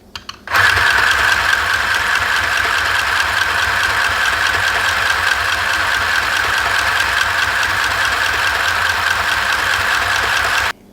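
A mini sewing machine winds a bobbin with a steady, fast whirring hum that starts abruptly, stays even and close for about ten seconds, then cuts off.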